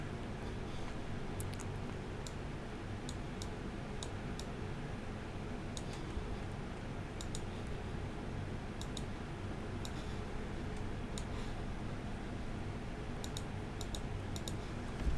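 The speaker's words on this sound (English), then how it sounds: "So, a lot of clicking going on as usual." Sharp, sparse clicks sound sporadically over a steady low background hum outdoors at night, isolated ticks and small clusters spread across the whole stretch.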